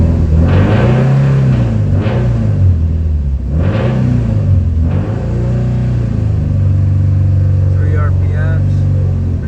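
A 2015 Subaru STI engine, under an oil pressure test, climbs from a steady idle rumble in several loud, close revs toward 3,000 RPM, then holds a high, sustained drone.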